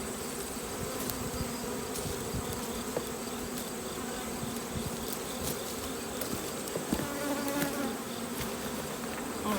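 Honey bees swarm around hive boxes during robbing, a dense continuous buzzing with individual bees droning close past, steady and loud with no talk.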